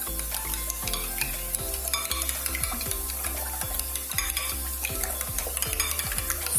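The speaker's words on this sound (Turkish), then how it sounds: "Bu arada yumurtamı homojen kıvama gelecek şekilde çok iyi çırpıyorum." Eggs for menemen whisked in a bowl, a quick, regular clicking and tapping of the whisk against the sides, close and fairly quiet, with no talking.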